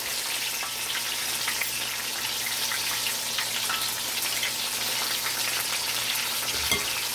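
Apple donuts fry in hot oil with a dense, steady crackling sizzle that runs throughout, close and loud, with a soft knock near the end as one is flipped.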